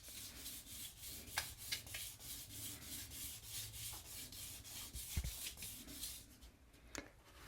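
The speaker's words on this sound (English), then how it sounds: "so you can just sand it and smooth it down even more" Steady rhythmic back-and-forth wet sanding of a guitar finish with fine 800-grit damp paper, done one-handed, quiet and close, with no talking.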